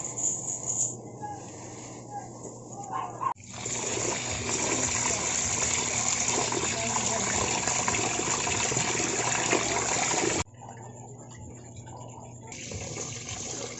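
Rice grains swirled and rinsed in water in a bowl, a steady broadband wash of splashing and pouring that swells louder for several seconds before easing, with someone talking over it.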